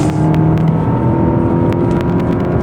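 Audi Q5 engine driven hard through corners, a loud continuous close engine drone with shifting pitch as it downshifts and upshifts, with brief sharp clicks scattered through.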